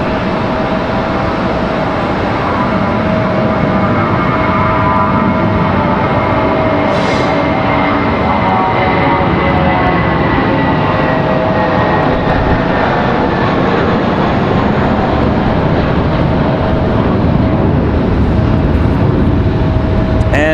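United Airbus A319 jet rolling at Raleigh-Durham airport, a steady loud broadband engine roar with a faint tonal whine, continuous throughout with no pauses.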